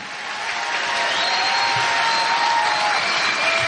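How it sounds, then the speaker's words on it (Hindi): A church congregation bursts into loud, sustained clapping that swells in the first second, then holds as a dense, even wash of applause filling the hall with no speech on top. "आइए उसके लिए जोर से ताली बजाएं"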